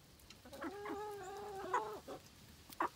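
Salmon Faverolles chickens in a roomy fenced run cluck and murmur softly at close range, a few short harmonic calls strung together over about three seconds with a couple of brief sharper notes near the end.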